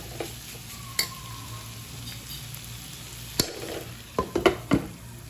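Chicken sausage roast sizzles steadily under a lid in a covered pan, a soft continuous fry with a few sharp clinks and taps of a lid or utensil near the end.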